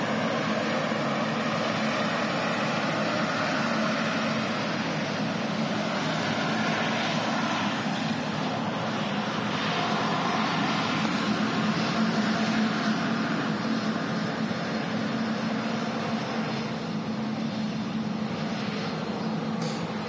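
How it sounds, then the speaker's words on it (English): A Turkish Airlines A330 taxiing out at Manchester Airport, its jet engines giving a steady, broad roar that holds evenly throughout with no speech. "Also got the Turkish Airlines A330 taxiing out as well."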